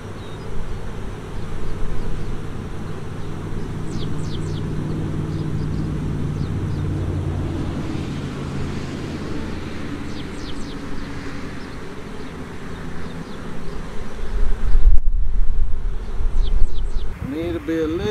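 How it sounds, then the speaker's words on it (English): A large swarm of bees buzzing, a continuous low droning hum close by that swells near the end, with someone talking intermittently over it. "look at that. Look at all them bees"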